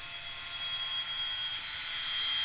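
A single aircraft is heard in flight at the Waddington airshow, its steady, loud engine roar holding throughout and swelling slightly toward the end, with no talk over it.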